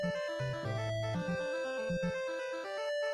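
Chiptune-style music from the Robotron video game, with bright square-wave melody lines over a bouncy bass pattern, steady and fairly quiet, no talking.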